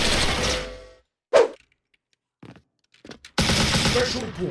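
An MP5 submachine gun in a shooting video game fires in two loud bursts of rapid shots separated by near-silence and a few faint in-game clicks and thumps.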